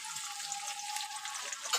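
Raisins and cashews fry in a mix of oil and ghee, a brief steady sizzle, quiet and close, with a faint clink near the end and no voices.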